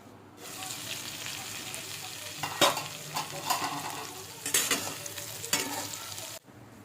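Brinjal sautéing in a pan after the lid is lifted, with a continuous close sizzle and bursts of scraping and stirring from a spoon against the pan.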